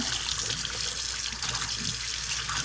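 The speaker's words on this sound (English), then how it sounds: "as long as the water's running over the glass" Tap water runs continuously over a glass beer mug in a sink, a steady close splashing rush that holds even throughout with no talking.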